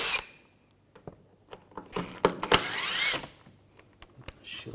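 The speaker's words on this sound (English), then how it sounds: "Just use a T30 socket. Take these screws out." Metal screws clinking and a socket ratcheting as a T30 socket backs fasteners out on a Volkswagen Jetta, with a busy rattling stretch in the middle amid quieter scattered clicks and taps.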